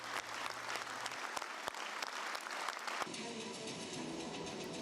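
An Azerbaijani audience applauds a traditional Korean dance performance: steady, dense clapping from a large crowd, fairly distant and even, with the texture shifting slightly partway through.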